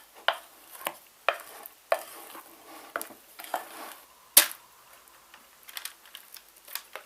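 Chocolate batter with fresh orange juice and a little rind is mixed in a bowl by hand, giving a series of sharp spoon taps and scrapes spaced about a second apart over quiet background, no speech.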